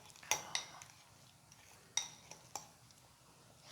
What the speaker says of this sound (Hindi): अब हम इसे अच्छे तरीके से मिक्स कर लेते हैं